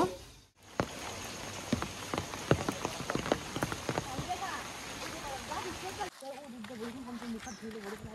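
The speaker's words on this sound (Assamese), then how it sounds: "তাতে আৰু বৰষুণ দি আছে" Morning rain falls in a steady patter on surfaces close by, with sharper individual drops standing out. It continues more softly in the final seconds.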